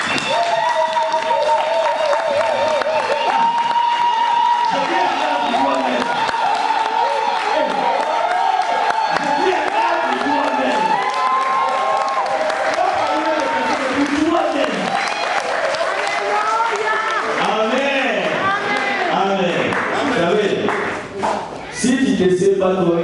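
A church congregation applauds and cheers, a dense continuous wash of clapping and crowd noise under a loud, dominant preaching voice, with scattered whoops.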